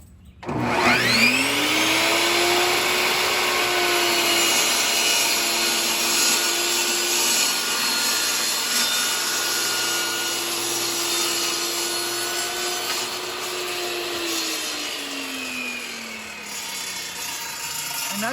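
A table saw cutting through a sheet of plywood for a shelf unit, with a steady loud motor whine that drops into a sustained cutting tone and then winds back up as the blade clears the board, alone with no talk.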